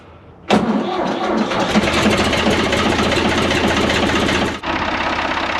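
A Ford 250 C tractor engine cranks briefly, then catches and runs loudly with a rapid, rough idle close by, holding steady for several seconds before a brief dip.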